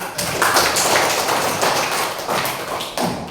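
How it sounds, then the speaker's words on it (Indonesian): Loud, close, steady hand clapping from a classroom audience at a lesson, with dense overlapping claps filling the whole span. "tepuk tangan dulu"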